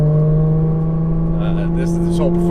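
A Porsche 981 Cayman flat-six sings through a Soul Performance exhaust with the valves open in sport mode, holding a loud, steady close-up drone while a few brief crackles and pops sound near the end.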